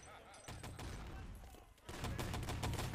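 Bursts of MP40 submachine gun fire in Wolfenstein: Enemy Territory during a competitive tournament match, rapid rattling volleys in two spells with a brief pause between, the second louder, with a voice faintly underneath.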